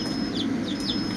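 Newly hatched chicks, mostly of the black Dominant D109 breed, give brief soft chirping peeps over a steady low background hum, faint and close.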